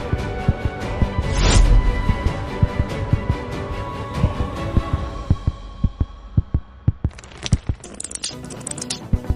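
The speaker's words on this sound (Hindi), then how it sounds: "मेरी धड़कन तेज क्यों हो गई?" A fast, heavy heartbeat effect from a Demon Slayer anime fight throbs in a steady, loud pulse under a droning hum, the beats continuing alone after a sharp swell, with no talking.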